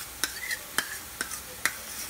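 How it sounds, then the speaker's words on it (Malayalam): Boondi batter drops sizzle in hot oil for boondi ladoo, with a soft steady crackle and sharp spattering bursts at a slow, even rhythm. They sound close and fairly quiet, with no talk. "നല്ല ചൂടുള്ള എണ്ണയിലിട്ടതായതുകൊണ്ട് നമുക്ക് പെട്ടെന്ന് തന്നെ ഇത് വറുത്ത് കോരിയെടുക്കാം"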